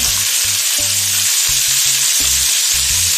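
Chicken pieces sizzle loudly in a pan with browned onion and garlic for chow mein, a steady close frying hiss throughout under a rhythmic low background beat.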